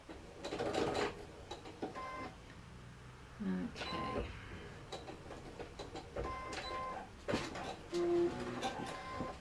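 A sewing machine top stitching a fabric mug bag, running in steady mechanical whirring stretches with short pauses and clicks, close by, with a brief spoken word partway through.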